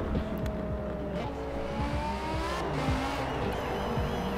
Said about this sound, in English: Drifts are initiated like this.